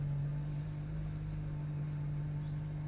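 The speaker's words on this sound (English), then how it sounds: "it will turn on the gas-powered engine" A Kia Sorento Hybrid's gas engine runs steadily at low idle with a constant deep hum and a strong low tone, close and even in level with no voices over it.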